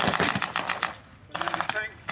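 Machine gun fire crackles in rapid bursts during a WWII battle re-enactment display at the War and Peace Revival Show, with sharp repeated shots, a brief lull, then another burst, fairly loud and somewhat distant.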